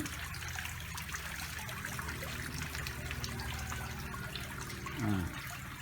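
Water from an artificial waterfall in a home garden trickles steadily and evenly throughout, a soft continuous splashing with a faint brief whistle-like sweep near the end and no voices.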